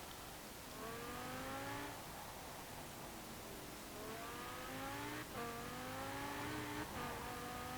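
1997 Lotus Elise GT1 accelerating in the racing game Forza Horizon 4, with an engine whine that climbs through several gear changes, each upshift dropping the pitch before it rises again over steady road noise.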